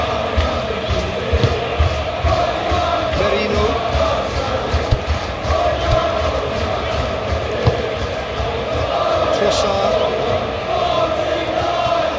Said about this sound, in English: Appreciated by the crowd.